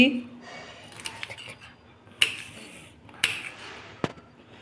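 Knife cutting capsicum on a board in a home kitchen, a few sharp chops and clicks scattered over a faint background hum with occasional clinks of utensils.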